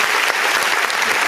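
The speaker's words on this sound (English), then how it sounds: "And he got hand claps and everything now." Steady dense applause from a group, hands clapping loudly and continuously throughout with no pause.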